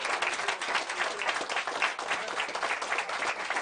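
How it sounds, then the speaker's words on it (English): An audience breaks into sustained applause for a magician's assistant at a live magic show, a dense, even wash of clapping from a crowd. "give her a round of applause"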